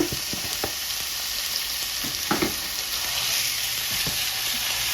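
A pound of ground turkey sizzles and fries in a hot pan with garlic, a steady bright hiss with a few soft clicks of stirring, no talking.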